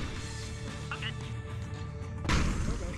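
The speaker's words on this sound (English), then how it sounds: "So many bombs." Bomb explosions in the video game VRChat, a sustained rumble with one heavy crash near the end, moderately loud, mixed with faint background chatter.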